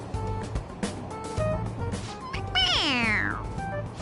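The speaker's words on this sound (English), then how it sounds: "It meows when you press on its head." A toy cat from Persona 5 Royal lets out a single drawn-out meow when its head is pressed. The meow is loud and close and bends downward in pitch, over background game music.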